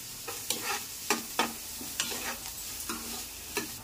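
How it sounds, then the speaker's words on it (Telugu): Ginger, chopped onions and green chillies frying in a pan for oats upma, with regular scraping stir strokes about every half second over a soft, steady sizzle. "మనం కట్ చేసి పెట్టుకున్న అల్లం, ఉల్లిపాయలు, పచ్చిమిర్చి కొంచెం దూరంగా వేగనివ్వాలి"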